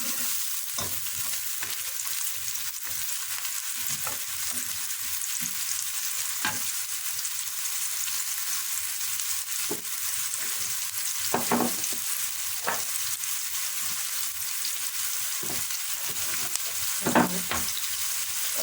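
Onions sautéing in a pan for a potato bulgur pilaf and chickpea meal, a steady hiss of frying with scattered spoon scrapes and stirring knocks, close and continuous with no talk.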